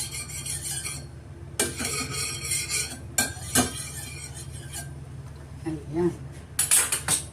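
A spoon clatters and scrapes against a heated frying pan while making cereal banana pancakes, giving several sharp metallic clinks and taps spread across the clip, with someone speaking briefly.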